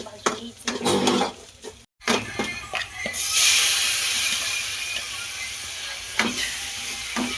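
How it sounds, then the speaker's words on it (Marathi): Green chicken masala fries in a pan with salt, crackling and then a strong steady sizzle hiss, broken by spoon scrapes and clinks against the metal, close and loud. "थोडा वेळ आता याला मस्त भाजून घ्यायचं."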